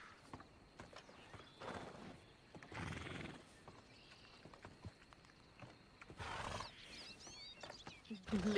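A horse in a western role-play video game whinnies and snorts in short bursts amid clopping hooves and quiet ambient background, with a person speaking faintly between the calls.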